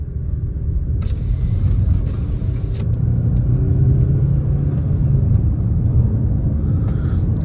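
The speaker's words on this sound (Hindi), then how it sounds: "अब दूसरे गियर में इस गाड़ी को अगर मैं खींचूं" A petrol Suzuki Grand Vitara, 2024 base model, pulls in second gear, its engine droning steadily with a low rumble that swells slightly as it accelerates, heard from inside the cabin with no talking.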